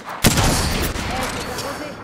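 Gunfire in the battle royale game Apex Legends: a loud shot opens a dense, continuous burst of rapid firing that holds for about two seconds.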